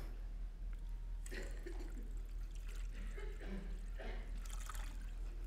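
Cold water poured into a container, heard as faint, close splashing and trickling in short pulses over a steady low hum, without talk.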